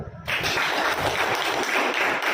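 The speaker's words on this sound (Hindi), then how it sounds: "एक बार उनके लिए जोरदार ताली।" An audience at a business plan presentation breaks into loud, dense applause for an invited guest, continuous clapping that starts abruptly and holds steady throughout.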